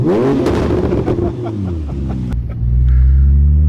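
A Porsche making about 900 brake horsepower rumbles loudly at a cars and coffee meet, its engine revving up and dropping back, then settling into a deep, heavy idle.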